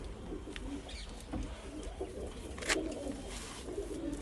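Pure Mirabad pigeons coo in soft repeated low phrases at close range, over a steady background hum, with a brief brighter chirp-like burst partway through and no talking.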